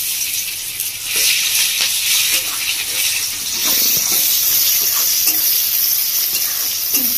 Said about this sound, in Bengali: কেটে পেঁয়াজটা আমি তেলের মধ্যে দিয়ে দিচ্ছি